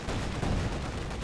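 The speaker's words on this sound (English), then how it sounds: "IS-2 shoots at the Panzer" IS-2 tank gun firing at a Panzer in Company of Heroes 2, heard as a muffled, fairly distant battlefield report with rolling rumble and scattered gunfire texture, quiet in the mix.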